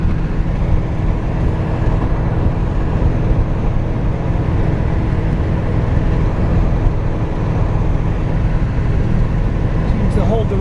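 A 1971 Corvette big block cruises at 60 mph, giving a steady, loud broadband road and engine drone that runs unbroken from start to finish with no distinct events.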